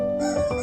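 A chicken sound effect, a loud close rooster crow drawn out in one continuous call of under a second, with no talk over it.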